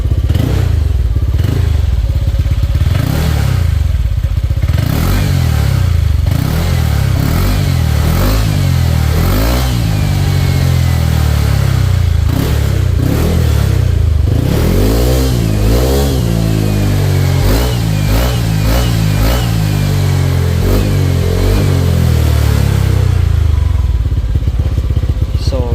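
A Honda Click 125 scooter with a 160cc bore-up and 59 big valves revs repeatedly close by, the engine climbing and dropping in loud throttle blips with clattering mechanical noise and no speech over it.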